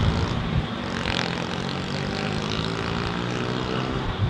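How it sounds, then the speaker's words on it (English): An Airbus A220 airliner takes off down the Heathrow runway on a clear day, making a steady, loud engine roar with a broadband rushing hiss that holds throughout. "Taking off in the clear blue skies, man. Halfway down the runway"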